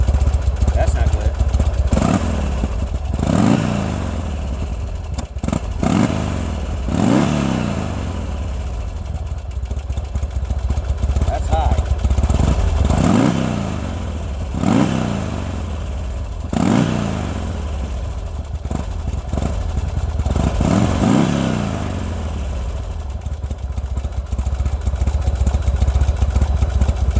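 A 2003 Harley-Davidson Buell motorcycle engine with an ignition fuse fault runs close by, idling roughly with a series of quick throttle blips and revs rising and falling every couple of seconds over a steady low rumble.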